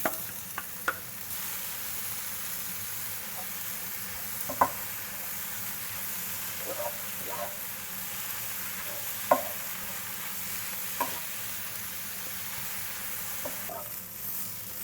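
Finely chopped celery, carrots, onion and garlic sauté in a pan for a bulk batch of Bolognese sauce, giving a steady, even sizzle with a few sharp clicks and scrapes of stirring scattered through, and no voices.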